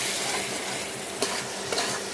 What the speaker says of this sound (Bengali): দিয়ে এবার ভালোভাবে মিশিয়ে নিব